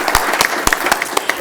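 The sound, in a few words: audience clapping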